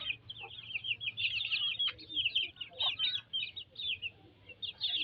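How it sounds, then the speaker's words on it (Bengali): Hens and chicks on a small backyard chicken farm cluck and peep near and far in a steady, busy chorus, with scattered chirps over a low background hum. "ওই যে মা মুরগিগুলো ওইখানে খাইতেছে"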